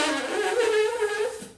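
A tight, pinched lip buzz on a tuba mouthpiece sounds alone, a thin, strained, nasal tone that wavers slightly in pitch and holds steady and fairly loud for over a second before cutting off.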